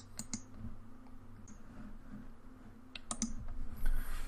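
Mouse clicks in the Eclipse Java IDE while a new class is created, sharp and close, in two pairs about three seconds apart, with softer desk and keyboard taps between them over a quiet room hum.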